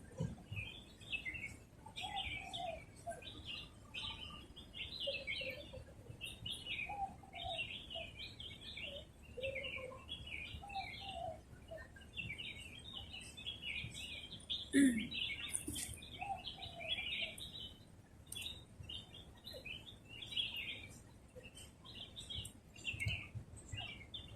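Birds chirp and tweet repeatedly in the background of a park, bright short calls scattered throughout over a steady outdoor ambience, with faint distant activity.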